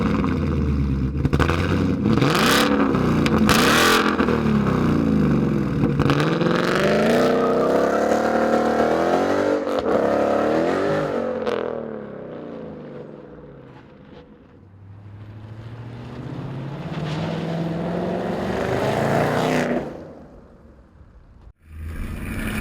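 2015-2017 Mustang GT V8 fitted with a Borla Atak cat-back exhaust, heard from inside while driving: loud rising and falling revs through gear changes with deep exhaust rumble, easing off to a quieter cruise, then accelerating hard again.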